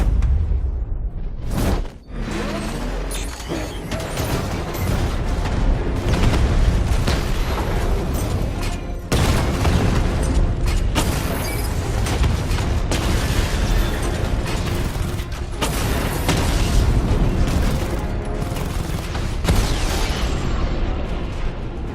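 Heavy explosions, booms and 60mm cannon fire from the Batman: Arkham Knight video game against armored units, loud and dense with mechanical rumble, continuing almost without a break.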